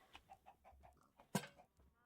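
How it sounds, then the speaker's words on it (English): Chickens cluck in a block-building video game, a quiet run of short rhythmic clucks with one louder squawk near the end, no talk. "some chickens in there that I will worry about getting out later"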